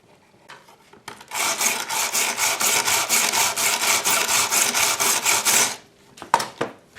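Steady scraping of a tool rubbed back and forth against a soldering iron tip while tinning it, a rapid run of even rasping strokes lasting several seconds, then a few separate scrapes, with no talk.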